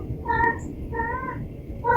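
A cartoonish cat meow sound effect from a Metroid-style video game repeats three times at a steady pace, loud and clear with no speech.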